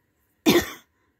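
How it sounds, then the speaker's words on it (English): A single dry cough from one person during a holiday-season home vlog, one short harsh burst lasting under half a second, close and fairly loud in an otherwise quiet room. "Sorry, I get this dry cough every so often."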